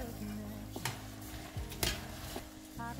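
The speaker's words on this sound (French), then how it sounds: "Je vais maintenant ajouter le riz." Washed rice poured into a pan of vegetables, chili and sauce, giving a few brief rattling, stirring and scraping sounds over a low steady sizzle, close and moderately quiet.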